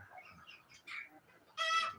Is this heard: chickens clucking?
yes